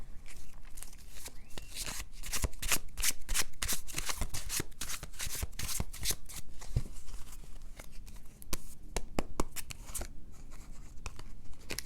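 Tarot cards being shuffled by hand, a steady run of crisp riffling and flicking bursts close up, continuing without a break and with no talking.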